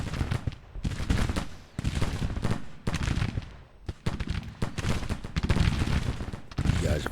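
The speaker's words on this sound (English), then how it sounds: "guys are firing at the wrong people." Dense musket volleys and artillery fire from a Civil War strategy game battle, a continuous crackling fusillade with overlapping bursts and booms, loud and sustained throughout without talk.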